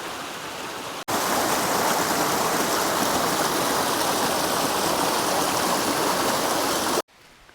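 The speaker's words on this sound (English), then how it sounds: "Got this really cool rolling waterfall happening." A rolling waterfall on Walden Creek at Shoals Falls near Dahlonega, Georgia, rushes as a loud, steady roar of tumbling water, cutting in abruptly and stopping sharply near the end.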